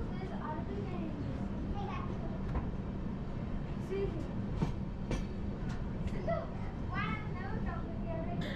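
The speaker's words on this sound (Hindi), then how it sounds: "ट्रेन भी बहुत स्लो से चल रही है।" Araku tourist train with a Vistadome coach running slowly: a steady low rumble with faint rail clicks fills the whole stretch, while voices and children's chatter carry on inside the coach.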